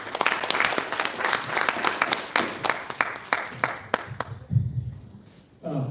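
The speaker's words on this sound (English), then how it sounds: "please present us another round of applause" Applause from the audience at a national examinations board event after a presentation, a sparse scatter of individual claps thinning out toward the end with some talk in the background.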